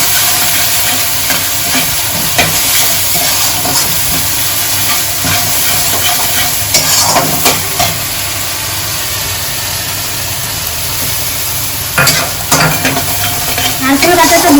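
Ground coconut paste fries with a steady hiss and sizzle in a pan as a spatula stirs and scrapes it in irregular strokes, up close, with no talking.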